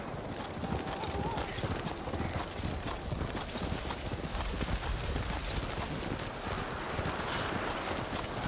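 Horse hooves trot steadily in the Ghost of Tsushima video game, a loud, continuous rhythmic clip-clop throughout, with characters speaking over it and snowy-weather ambience behind.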